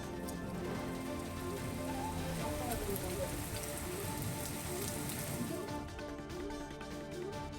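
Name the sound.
heavy rain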